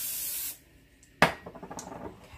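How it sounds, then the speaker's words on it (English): Cooking spray hisses from an aerosol can onto measuring cups for honey, one steady half-second burst, followed by a sharp clink and faint clatter of the cups, close up with no talking. "I like to spray my measuring cups or spoons, you know, when I use honey"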